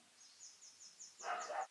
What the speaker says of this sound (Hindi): एक कुत्ता बहुत भौंक रहा है